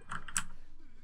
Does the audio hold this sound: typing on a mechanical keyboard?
yes